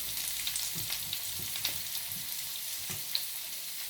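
Food frying in a pan after water has been added, the steam making it noisy: a steady, soft crackling sizzle with faint scattered pops and stirring bumps, no voices.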